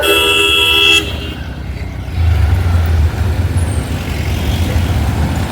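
Street traffic at the Dadar signal in Mumbai: a sustained car horn blares for about a second, then engines of passing cars and heavier vehicles rumble close by in a steady wash of road noise.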